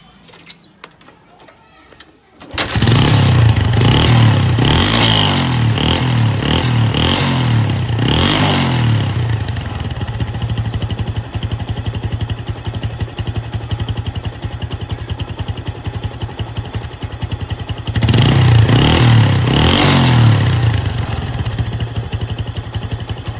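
A used Bajaj Discover 135cc motorcycle kicks into life after a short quiet lead-in, then idles steadily and loud at close range with a brief rise in revs near the end.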